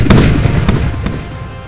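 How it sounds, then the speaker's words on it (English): A Bofors 57mm naval gun fires during a functional check aboard ship, producing loud close booming reports, two or three sharp blasts rising out of a dense rumbling low-end background. "Every time that the guns shoot and I hear that bang, it makes me feel great"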